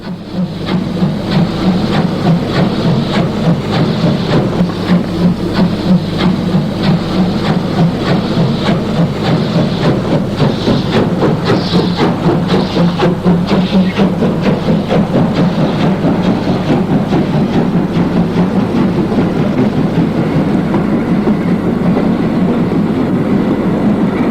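An East German train runs steadily en route to Halle, a continuous loud rumble with rhythmic rail clatter and a low engine drone throughout, no voices.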